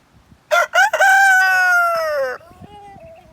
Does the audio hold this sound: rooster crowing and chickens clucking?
yes